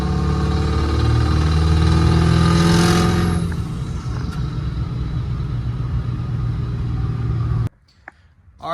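A 650 hp 6.0 Powerstroke diesel pickup engine revs up then settles into a rough, rumbling drive, heard close from inside the moving extended-cab truck with the back glass open, and cuts off abruptly near the end.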